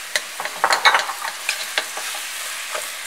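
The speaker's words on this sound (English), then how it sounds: "I'm gonna add our beef now." Ground beef sizzling as it browns in a pot, a bright crackling fry with a burst of spatula scrapes and stirring early on, then a steady hiss, close up.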